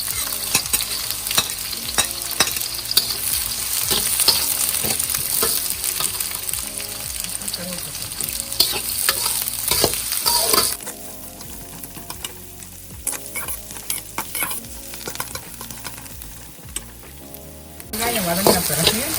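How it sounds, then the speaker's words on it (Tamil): Onions sauté in hot oil with whole spices for Chettinad chicken biryani, a loud, continuous sizzle and crackle with intermittent stirring scrapes and no talking. "அப்புறம் வெங்காயத்தை போட்டு வதக்கிக்கலாம்."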